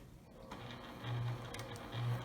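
A sewing machine stitching a fabric face mask hums in short, close bursts, backstitching to secure the thread, with pulsing motor tones over a steady background.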